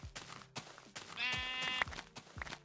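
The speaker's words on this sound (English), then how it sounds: "We have found the final sheep." A sheep bleats in Minecraft Beta 1.7.3, one clear wavering bleat in the middle of a quiet in-game scene scattered with short footstep-like thumps.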